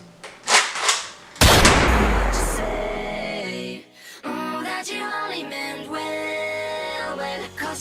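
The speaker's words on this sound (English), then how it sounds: "Hector, I thought we said no guns at winter retreat." A single loud, sudden blast like a gunshot at an indoor winter retreat gathering, ringing out after a couple of brief thumps and then fading slowly under music and singing voices.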